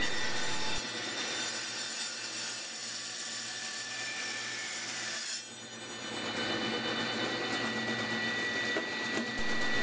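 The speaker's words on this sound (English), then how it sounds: "We also cut the solid rod using the table saw." A table saw cuts through solid steel rod with a steady, loud, harsh grinding whine that carries on continuously, dipping briefly partway through before resuming.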